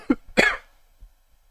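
A woman gives two quick, close coughs after inhaling spit, the second stronger and rougher, followed by a faint breath.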